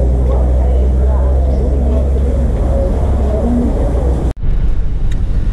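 Car driving home from a visit to see parrots and macaws, a steady low engine and road rumble close by throughout, with a brief dropout near the end.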